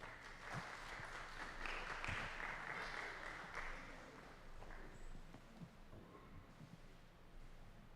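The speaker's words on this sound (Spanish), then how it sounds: "Démosle un aplauso a estos muchachos." A church congregation applauds a group of young people, a steady wash of clapping that swells and fades over several seconds, with faint voices and shuffling feet mixed in.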